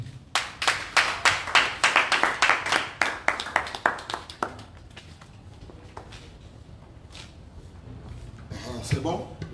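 A church congregation claps in rhythmic bursts to acclaim Jesus, loud and dense for about four seconds before thinning into scattered claps and murmuring voices, then a short final flurry.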